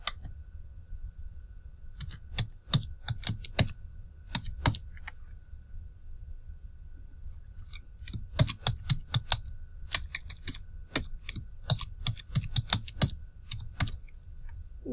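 Password being typed on a computer keyboard: bursts of quick, close key clicks with short pauses between runs.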